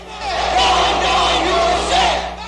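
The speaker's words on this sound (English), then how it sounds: "His own people cheer his public appearances and obediently chant anti-American slogans." A Libyan crowd roars and chants anti-American slogans at a public appearance, a loud, swelling mass of voices rising and falling together over a couple of seconds.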